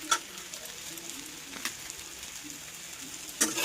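Vegetables frying in a pan give a soft, low sizzle with a few faint clicks and taps, quiet and close.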